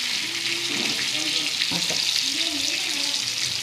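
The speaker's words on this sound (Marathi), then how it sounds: "हे स्लो गॅसवरतीच होऊ द्यायचं, काहीच करायचं नाही." Shipla fish shallow-fries in a little oil in a pan over low gas, giving a continuous, even sizzle with a few soft clinks and a brief spoken word near the middle.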